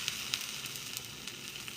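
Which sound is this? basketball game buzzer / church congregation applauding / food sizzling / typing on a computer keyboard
food sizzling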